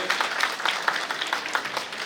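Crowd applause at a food-kit distribution event in Ahmedabad, a steady patter of many hands clapping together for about two seconds, moderately loud with no voices over it.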